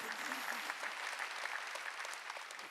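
A church congregation at a Sunday worship service claps together, a steady, evenly paced patter of many hands heard at a distance, fairly faint throughout.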